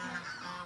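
A goose honks loudly and nearby in a short nasal burst, heard alone without talk.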